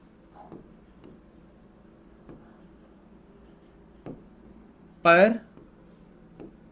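A pen scratches notes on paper during a Class 9 physics lesson, producing soft, faint strokes, and a brief spoken word cuts through near the end.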